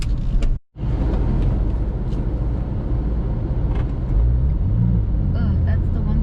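A Porsche 996 911 engine rumbles loud and close as the car pulls away in first gear, a steady low drone holding throughout, with a brief dropout near the start and a slight rise in pitch toward the end.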